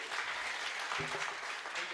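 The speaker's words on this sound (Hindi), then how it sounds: "एक बार मैं चाहती हूं कि मोहित जी के लिए ताली बजा दीजिए आप सभी।" An audience at a Hindi comic poetry gathering breaks into a short burst of dense, continuous applause, heard from a distance and fairly faint.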